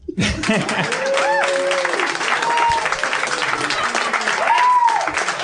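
Live comedy podcast audience applauding and cheering to vote for crunchy peanut butter, a loud sustained wash of clapping with whoops and shouts rising over it throughout.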